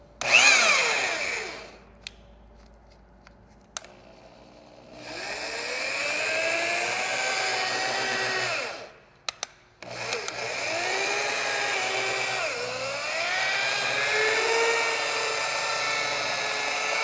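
An old, heavily used rotary polisher whines on neglected black car paint, running in long loud stretches with brief stops and restarts. Its pitch dips and recovers under load, close by.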